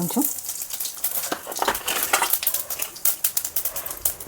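Mustard seeds dropped into oil heating in a kadai crackle and pop close up, with a steady dense sizzle and scattered sharp spits throughout.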